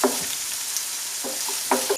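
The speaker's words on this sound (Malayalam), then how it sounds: "ഒരു ചൂടായ എണ്ണയിലോട്ട് ഒരു സവാള നീളത്തിലരിഞ്ഞ് അത് ഇട്ട് കൊടുക്കുക." Sliced onion sautéing in hot oil on low flame for an ivy gourd masala, a steady close sizzle with a few soft stirring clinks and scrapes throughout.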